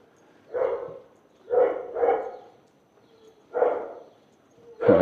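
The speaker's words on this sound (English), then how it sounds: "The dog's got the deepest bark." A dog with a very deep voice barks four or five times in separated woofs, two coming close together, at moderate distance outdoors on a walk in Innisfail, Australia, with quiet surroundings between barks.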